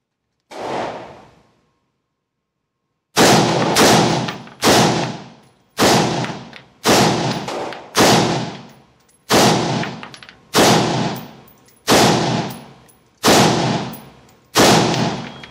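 A rifle fires a magazine of rounds at night, with one shot, a pause, then about ten loud, evenly spaced reports roughly one second apart, each with a sharp crack and ringing decay.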